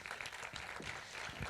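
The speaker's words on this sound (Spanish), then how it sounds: "Gonzalo Nazar, un fuerte aplauso." Audience applause at a live talk event welcoming a guest onstage, a fairly faint, steady wash of clapping from a crowd lasting the whole moment.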